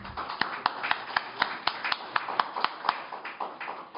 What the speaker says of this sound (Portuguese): Uma salva de palmas para o Tierno